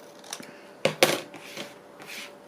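Scissors snip through paper while pocket journal pages are trimmed, a few crisp cuts with two sharper snips close together near the middle, alone and fairly quiet.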